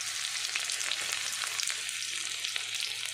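Garlic frying in hot oil for chicken pasta, a hissing, crackling sizzle with small pops, steady and close, with faint stirring.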